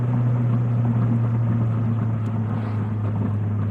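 Exhaust of a 2022+ Subaru BRZ / GR86 with an FA engine and aftermarket exhaust, heard from inside while driving: a steady, loud low drone with a constant engine hum throughout, no talking.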